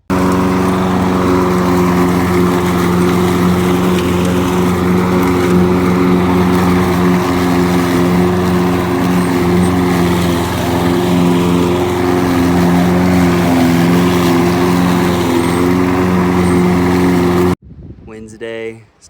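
A push lawn mower cuts wet grass during a lawn care job, its engine a loud, steady close drone for most of the span before cutting off abruptly near the end.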